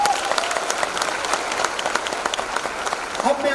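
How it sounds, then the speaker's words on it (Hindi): A room full of people claps steadily for title holders at a Modicare business presentation, a brief, even burst of audience applause lasting a few seconds. "हमारे सारे टाइटल होल्डर्स के लिए जबरदस्त तालियां प्लीज।"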